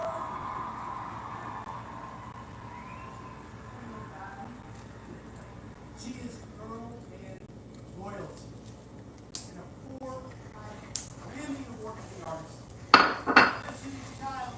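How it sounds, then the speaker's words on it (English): A spoon stirring peanut and oats porridge with condensed milk in a pot, soft scraping at first that turns into clinking knocks against the metal near the end, with a voice talking over it. "the goal is just to mix until it thickens"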